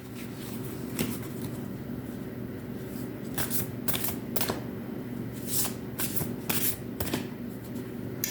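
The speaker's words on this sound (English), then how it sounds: "Let's pull the next card." Tarot cards being shuffled and drawn, soft riffling and quick flicking snaps in short bursts at close range, with no talking.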